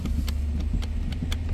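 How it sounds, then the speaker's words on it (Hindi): Steady rhythmic ticking from the gear selector of a Nissan Patrol with a stuck, non-working shift selector, about six evenly spaced clicks over a low idling engine rumble, close and clear with no talk. "ये आप देख रहे हैं आवाज़ आ रही है टिक टिक की"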